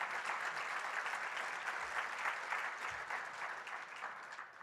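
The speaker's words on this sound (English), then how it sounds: "Let's give him a round of applause for that." An audience at an energy economy event applauds, a sustained even wash of many hands clapping at moderate distance, steady for several seconds before tapering slightly.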